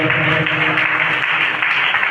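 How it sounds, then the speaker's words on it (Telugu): A church congregation applauds together, a dense, loud burst of clapping that fills the room for a couple of seconds. "చప్పట్లు కొట్టండి సిగ్గు లేని వాళ్ళందరూ"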